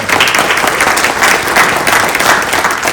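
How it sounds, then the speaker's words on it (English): Loud, dense applause from an Indian American community audience fills the room continuously, a steady wash of many hands clapping with no pauses. "Let's give him a round of applause."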